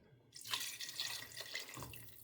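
The rest of the cooking liquid for lamb chops cooked oxtail style pours into a pan, giving a soft continuous splashing flow up close that starts abruptly and runs for about two seconds.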